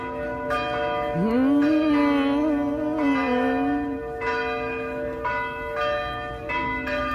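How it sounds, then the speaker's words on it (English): Church bells ring out steadily with long, resonant overlapping tones, moderately distant and sustained, with no talking. "here's the bells coming, hold on"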